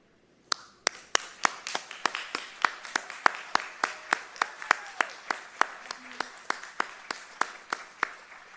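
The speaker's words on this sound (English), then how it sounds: "I'm just going to ask you just for a moment if you would actually get to your feet and to applaud Mr. Irvine, your principal" A graduation audience at a high school ceremony stands and applauds, with one close, loud clapper keeping a steady, evenly spaced beat over a fainter spread of crowd clapping.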